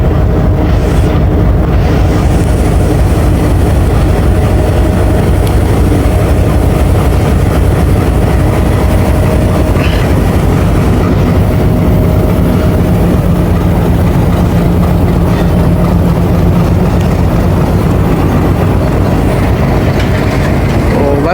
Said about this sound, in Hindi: तो 104 डाउन भी निकल रही है और हम भी निकल रहे हैं जी